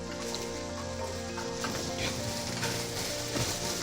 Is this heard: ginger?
yes